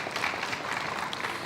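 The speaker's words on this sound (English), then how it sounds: "I think she deserves another round of applause." A fashion show audience in Ghana applauds in a brief, dense burst of clapping that holds at an even, moderate level from start to finish.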